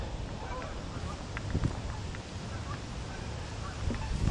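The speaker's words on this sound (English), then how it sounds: "There goes the geese." Geese honk faintly in the distance beside a pond, with a few scattered calls under a steady outdoor wind-like hiss.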